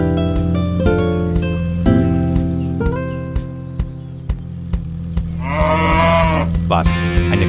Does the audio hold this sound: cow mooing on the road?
yes